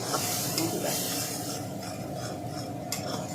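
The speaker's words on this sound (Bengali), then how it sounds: "মশলাটা কষে নিচ্ছি।" Spice paste with bay leaf and cumin frying in hot oil for a raw-banana kofta curry, a steady close sizzle and hiss with scraping stirring strokes throughout.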